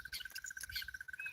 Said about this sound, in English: Is it a kingfisher?